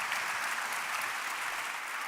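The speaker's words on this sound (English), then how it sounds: "How about a round of applause for them?" An audience claps for forum panelists in a brief, even wash of applause from a sizable crowd, heard at a moderate distance and continuing steadily without any voices over it.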